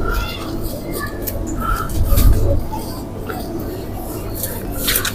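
Pigeons coo softly in a group, low burbling calls overlapping against a steady outdoor rumble and some shuffling.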